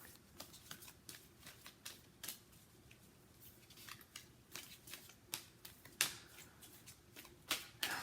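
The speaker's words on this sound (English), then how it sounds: "I'm going to put more cards out and then talk." Tarot cards shuffled and dealt out one by one in a quiet room, a steady run of crisp, close slaps and riffles with sharper flicks as each card is laid down.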